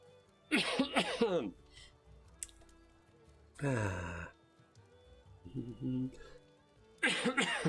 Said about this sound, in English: I picked up a little bit of a cough this evening.